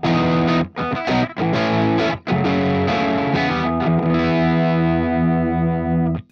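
Electric guitar played through a compressor pedal with its volume knob turned fully left rings out in loud strummed chords and sustained notes, with a few brief breaks before a long decaying final chord.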